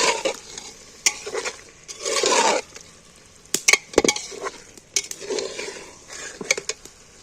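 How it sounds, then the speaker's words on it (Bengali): A spoon stirs egg and soybean curry with boiled potatoes in a metal pan, with bursts of sizzling frying and sharp scrapes and clinks against the pan at irregular intervals, close and without talk. "ভালো করে কষিয়ে নেবো আবার ঘন"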